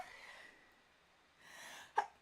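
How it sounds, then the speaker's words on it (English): A single sharp sneeze bursts out near the end, after a stretch of soft breathy noise and a short inhale. "Feel the need to sneeze."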